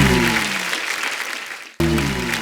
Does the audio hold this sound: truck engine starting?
no